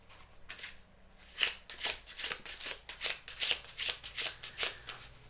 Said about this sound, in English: These are usually really slippery, but they shuffle so easily